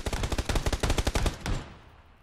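A rapid burst of automatic gunfire from a weapon in the video game PUBG, about a dozen loud, close shots in quick rhythm, then a short gap, one last shot and a fading echo tail.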